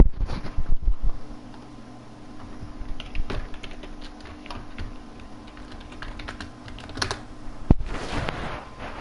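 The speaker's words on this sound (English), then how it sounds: "I know my keyboard is noisy." Rapid clicking of a loud computer keyboard during a live racing sim stream, steady close-up typing with a brief louder clack near the end and no talking.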